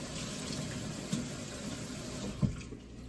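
A kitchen tap runs in a steady, soft rush while someone washes their hands, with a couple of faint clunks against the sink, and no voices.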